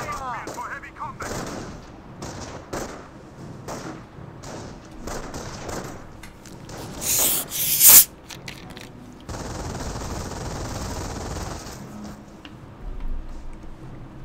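Machine gun fire from a Schwimmwagen in the World War II strategy game Company of Heroes, heard as repeated rattling bursts and thuds amid other battle sounds, with commentary talk running underneath.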